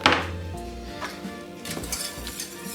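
A utensil stirs a chocolate cherry mousse mixture in a pot, with an opening clink and soft scraping under quiet background music.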